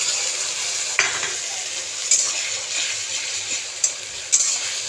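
A ground paste of ginger, garlic, onion, green chilli and black pepper fries in a pan with a continuous bright hiss, punctuated by four or five sharp clicks and scrapes from stirring, close by and without speech.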